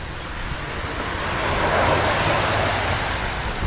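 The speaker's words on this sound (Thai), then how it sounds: "ทั้งฝนทั้งลม" Rain and wind during a storm give a steady broadband rush that swells louder midway, with no voices.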